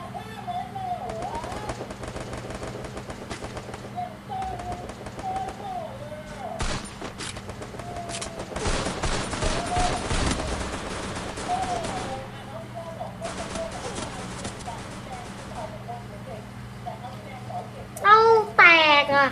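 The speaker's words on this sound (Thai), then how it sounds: "เริ่มยิงกันแล้วเห็นปะ" Video game gunfire erupts in rapid bursts and volleys, loudest through the middle stretch, while a young voice chatters over the action almost throughout.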